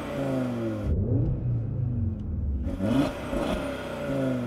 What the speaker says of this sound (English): Let's have a listen to the Audi because that 5-cylinder is sweet.